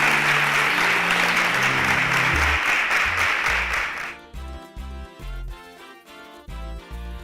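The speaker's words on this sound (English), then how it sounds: "Give me a round of applause for them." An audience applauds loudly for about four seconds, then the clapping gives way to a musical jingle with a steady beat.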